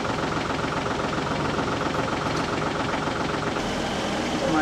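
Tractor engine idling with a heavy bale wrapper on the back, a steady low chugging rumble with knocking pulses, close and constant throughout.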